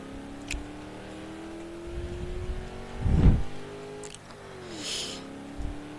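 Video game car engine droning steadily with a few revs and swells, one louder surge midway, and a brief hiss later on, with no talking over it.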